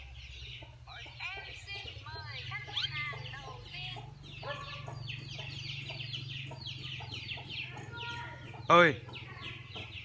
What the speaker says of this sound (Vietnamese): mình sẽ đi xem mấy con gà làm ồn ào quá